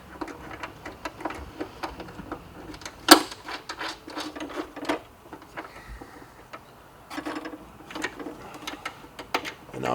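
Small nuts are threaded by hand onto screws while a fairing is fitted to a Harley FatBob motorcycle, giving close, quiet metallic clicks and light ticking taps in an irregular rhythm, with one sharper clink, and no speech.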